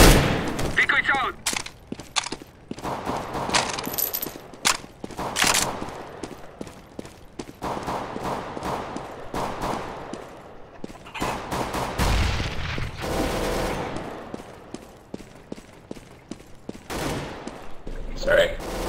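Counter-Strike GO gunfire, including the fake shots of a decoy grenade, sounds as scattered sharp cracks and short bursts across the whole stretch, some loud and close, with players talking over them at times.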